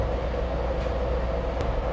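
Steady low rumble and rolling hum inside a moving Amtrak passenger train on a line running north from LA, continuous and even with faint clicks.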